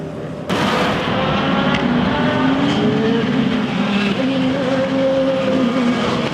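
American Le Mans Series race cars at the start of the 2008 Mosport Grand Prix burst into a loud, sustained roar of many engines, with rising and falling engine pitches as the field accelerates, and no talk.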